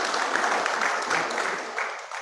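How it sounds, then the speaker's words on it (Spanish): An audience at a bullfighting festival gives another round of applause as performers depart, a dense, loud, continuous clapping that tapers slightly at the end. "Les vamos a dar otro aplauso para que se despiden."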